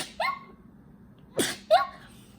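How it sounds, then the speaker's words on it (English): A single sharp sneeze bursts out close to the microphone, with brief voiced breaths or laughs just before and after it in a quiet indoor room. "I'm gonna sneeze."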